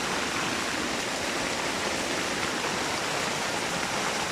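Steady, dense rain pouring down in San Mateo, Rizal, a continuous even hiss of falling water with no breaks or voices.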